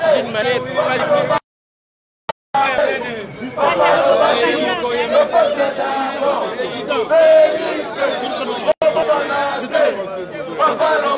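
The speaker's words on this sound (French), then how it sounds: "C'est vraiment une foule immense qui est venue soutenir le président Félix" Large outdoor crowd at a Paris support march for President Félix Tshisekedi, loud and close, with overlapping voices, shouts and chatter throughout and a brief cut near the start.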